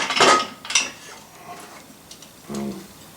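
Metal pot clanks and clinks as a pressure cooker holding prepared dried chickpeas is handled, with a few sharp knocks near the start and a softer thud toward the end.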